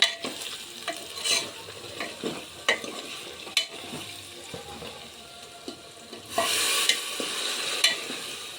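Spiced potato curry with coriander-cumin masala is stirred in a frying pan: repeated spatula scrapes and taps over a steady sizzle, which swells into a louder hiss near the end.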